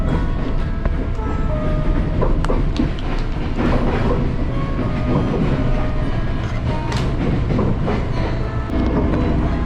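A KRL commuter electric train in Jakarta, running from Manggarai toward Sudirman, rumbles along the rails, with steady clickety-clack of wheels over joints and a continuous loud roar, heard from inside a carriage.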